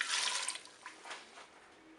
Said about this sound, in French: Je vais verser les 200 ml d'eau